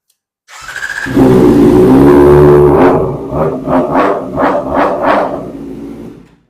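Kawasaki ZX-4R motorcycle engine inside a warehouse, starting with a rising roar, holding a steady high rev, then giving five quick throttle blips that echo off the walls, loud and close.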